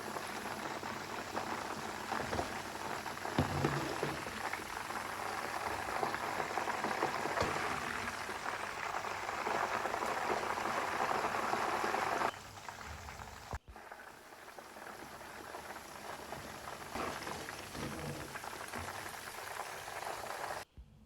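Chicken 65 pieces deep-frying in hot oil in a pan, a steady dense crackling sizzle that runs loud and continuous, dipping slightly partway through, with no talking.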